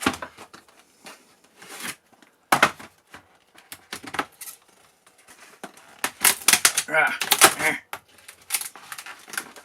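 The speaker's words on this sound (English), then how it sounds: "Take it out of the damn plastic thing out there." Cheap tool bits are pulled from plastic packaging in a series of sharp crinkles, clicks and snaps, close and irregular, with busier bursts toward the end and a person talking between them.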